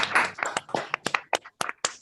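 Online attendees unmuting at a virtual convocation and inauguration clap together, a scattered patter of separate hand claps of differing loudness, some overlapping at first then thinning into sparse, distinct claps.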